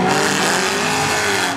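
A race car in a mini heat roars past up close, loud sustained engine drone with tire noise, no voices.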